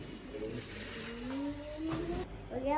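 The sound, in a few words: child imitating a car while playing with toy cars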